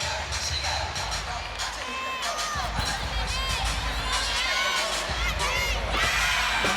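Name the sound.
gymnastics arena crowd cheering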